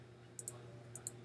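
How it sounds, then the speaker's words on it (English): Two quick double clicks of a computer mouse during video editing, each pair of sharp, faint clicks standing alone over a steady low hum. "and I can go over here, double click,"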